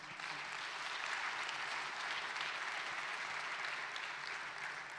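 Sustained audience applause at a summit welcome address, a dense, even roar of clapping from a large crowd lasting several seconds without letting up.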